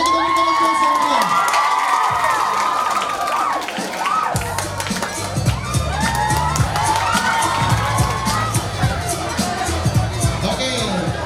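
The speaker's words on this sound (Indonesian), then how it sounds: "Oke, kita berikan aplaus yang meriah." A school anniversary audience in Maumere claps and cheers loudly and continuously, with shouting and crowd babble under a steady roar, after music fades at the start.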